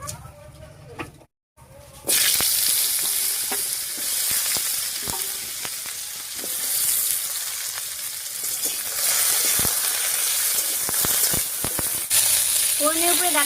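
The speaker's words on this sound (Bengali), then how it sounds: "ফোড়নের উপরে ডাটা দিয়ে একটু নাড়িয়ে নিলাম।" Cut vegetable stalks dropped onto a cumin and bay leaf tempering in hot oil, a loud sizzle bursting in after a short quiet start, with scattered spatula clicks and scrapes as they are stirred.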